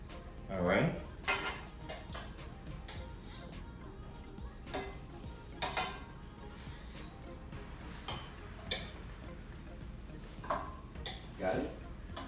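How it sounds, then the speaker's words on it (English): Mushrooms and onion are stirred into cauliflower soup in a pot, with occasional utensil clinks and scrapes against the pot at a steady, unhurried pace while people talk nearby. "you wanna stir in your mushrooms, your onion, okay? Go ahead and stir that in"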